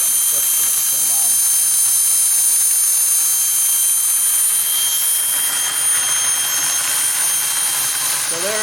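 A new steam turbine runs with a loud, continuous high-pitched whine over a dense roaring hiss, steady throughout with no break.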